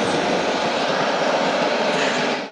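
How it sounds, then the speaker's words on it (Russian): Jet aircraft engine running up as the throttle is advanced in a demonstration for schoolchildren, a loud, dense, continuous roar with no talk over it, holding steady before cutting off at the very end. "Щелчок и реактивный двигатель на глазах школьников приходят в движение."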